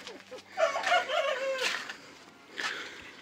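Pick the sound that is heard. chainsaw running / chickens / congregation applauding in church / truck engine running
chickens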